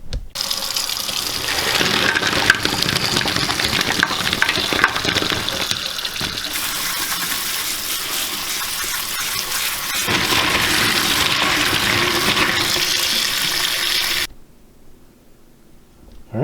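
Freshly harvested peanuts being rinsed under running water, a loud continuous gush and splash that shifts in tone as the nuts are moved, then cuts off abruptly near the end.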